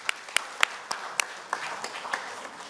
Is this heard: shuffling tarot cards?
no